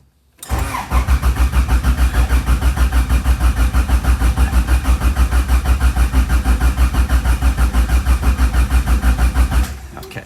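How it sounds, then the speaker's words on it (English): A car engine cranked by its starter motor to circulate oil through a rebuilt engine, a close, loud, rapid rhythmic churning that runs steadily for about nine seconds and then stops without firing. "we're going to just crank it and get oil in all the spots"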